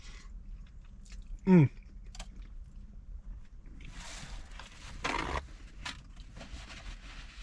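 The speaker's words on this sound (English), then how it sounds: "I apologize if I'm not supposed to be eating it with my hands, but I just had to go in real quick." A person eating Jamaican oxtail and jerk chicken with their hands, with soft, close chewing and biting sounds, a brief squeaky tonal noise early on and a burst of rustling partway through.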